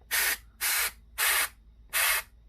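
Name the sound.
compressed air blown into PS4 cooling fan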